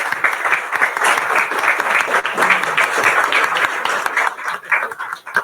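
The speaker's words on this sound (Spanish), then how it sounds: "yo creo que se merecen un aplauso" An audience at a Spanish-language panel discussion bursts into loud, full applause, many hands clapping together in a thick sustained roar that swells and dips slightly before starting to taper near the end.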